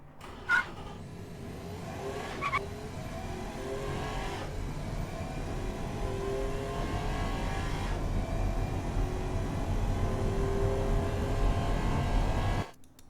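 Heavy, nearly 2,300 kg 2011 Athena UL6 SUV on sports tires accelerating hard from 0 to 100 in Automation, with a steady engine drone climbing through gears for about twelve seconds before cutting off abruptly.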